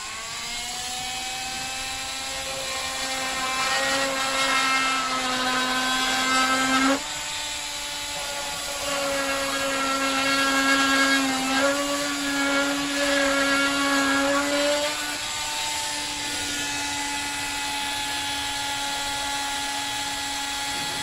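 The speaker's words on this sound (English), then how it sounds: "I'm going to use the oscillating tool to cut" A battery oscillating multi-tool cuts into wood with a steady high buzzing whine, its pitch briefly rising and dropping as the blade bites, running continuously for about twenty seconds.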